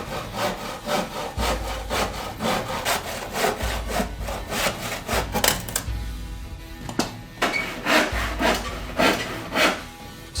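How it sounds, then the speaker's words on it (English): A hand saw cuts through glued plywood for a Viking longship hull, steady back-and-forth rasping strokes close up, each stroke rising and falling in a continuous rhythm. "I just need to saw this into shape and then glue on the sides."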